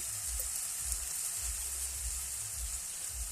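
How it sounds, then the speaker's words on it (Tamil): Tomatoes sauté in a pan for a gram-flour chutney, making a faint, steady sizzling hiss. It runs evenly, with a low rumble underneath and no speech. "தக்காளி நல்லா வதங்கிருச்சா"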